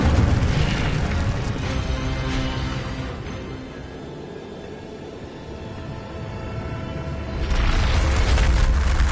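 An Incendio fire spell explodes in the Hogwarts Legacy video game: loud, booming blasts at the start and again near the end, with a lower rumbling roar in between.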